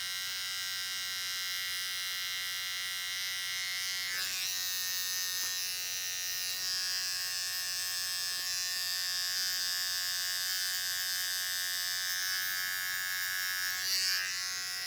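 Electric hair trimmer cutting a child's hair, a steady close buzzing hum that runs almost unbroken, with slight shifts in pitch as the blades move across the head.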